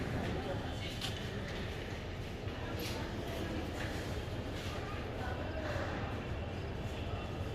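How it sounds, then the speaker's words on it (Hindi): Train noise fills Habibganj railway station in Bhopal, a continuous low rumble and rattle with occasional faint clanks, steady from start to finish. "तो ये रहा हबीबगंज रेलवे स्टेशन"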